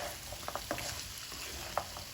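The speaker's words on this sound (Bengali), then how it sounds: "আমি মশলাটা কষাচ্ছি বড়িটা কিন্তু আমি আগে তেলে ভেজে নিয়েছিলাম তারপরে আবার এই আলু কষানোর সাথে আবার কষাচ্ছি" Spice paste sautéing in a pan with potatoes and lentil dumplings that were fried in oil first. A quiet, steady sizzle runs throughout, with a few brief stirring scrapes and taps and no talking.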